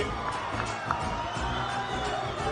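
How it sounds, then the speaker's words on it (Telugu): A large audience at a public event with the chief minister breaks into cheering and applause. The crowd noise is loud and continuous, with scattered shouts and whoops, and it lasts about two and a half seconds. "గట్టిగా చప్పట్లు కూడా చెప్పండి"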